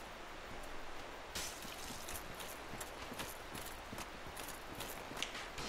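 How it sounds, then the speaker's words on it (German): Footsteps in the video game Dark Souls Remastered: faint, quick, irregular steps tap over a low, hissing ambient background. "Ich höre auf jeden Fall Schritte."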